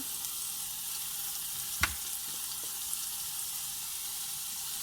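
A roast sears quietly in an Instant Pot on the saute setting, a faint steady sizzle running throughout with a single brief clank partway through and no talking.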